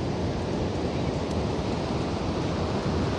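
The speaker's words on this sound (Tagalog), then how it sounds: "Nakakatakot yung alon eh." Heavy ocean surf rolling onto the beach at San Juan, La Union during a closure for rough, frightening waves, a steady loud wash of broadband roar with no distinct breaks and no voices.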